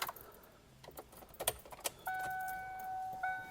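A car's keys jingle and clink in a few brief bursts near the start, then a steady electronic chime sounds in the quiet car, near and fairly soft.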